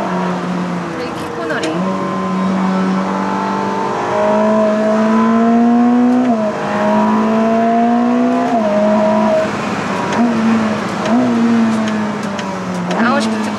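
Ferrari SF90 Stradale, a 1000-horsepower hybrid sports car, braking, cornering and accelerating on a track at night, its engine pitch rising and dropping with quick gear changes, loud and close beneath steady talk.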